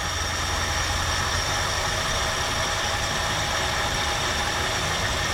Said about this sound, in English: That's a quiet running engine, y'all.